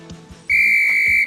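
A single workout whistle at a HIIT boot camp blows one loud, sustained shrill blast lasting most of a second, preceded by faint background murmur.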